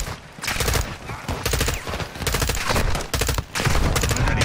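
Dense video-game gunfire in a Call of Duty Modern Warfare II firefight near a bridge, with rapid automatic bursts and overlapping shots rattling almost continuously, loud and close, with brief lulls between volleys.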